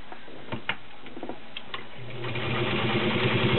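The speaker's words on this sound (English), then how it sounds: "As you can hear, it sounds very nice, quiet," A vintage pink Atlas straight stitch sewing machine stitches through four layers of denim with a size 16 needle, starting with a few soft ticks and then settling into a steady, quiet, rapid mechanical whirr close up.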